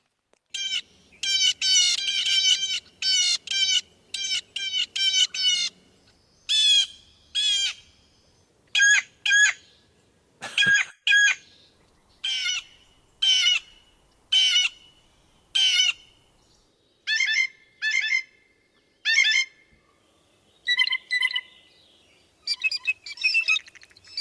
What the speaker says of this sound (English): So let's hear the blue jay again